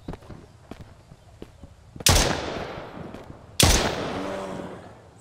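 Gunfire in the survival video game Mist Survival: two loud, sharp shots about a second and a half apart, each ringing out with a long decaying tail over quiet background.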